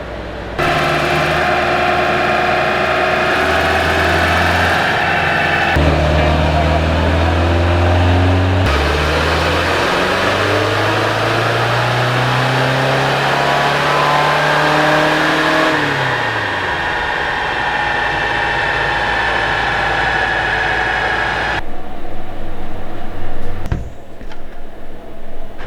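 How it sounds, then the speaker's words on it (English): A camper van engine on a rolling road dyno revs under load, rising steadily in pitch through several gear changes. Each gear ends in a sharp drop, and the sound stays loud and close throughout with no speech. "he's now put a load on the rollers, and then we're going to do our first loaded run"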